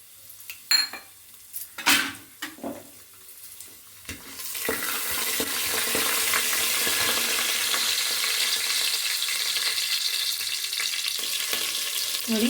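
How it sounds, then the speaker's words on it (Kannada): Mustard seeds, cumin and fennel dropped into hot oil with a little chana dal, a few clinks of a spoon against the pan, then a loud steady sizzle and crackle that carries on close up. "ಇವಾಗ ನೋಡಿ ಸಾಸಿವೆ, ಜೀರಿಗೆ, ಸೋಂಪು ಎಲ್ಲವನ್ನೂ ಹಾಕ್ಕೊಳ್ತೀನಿ."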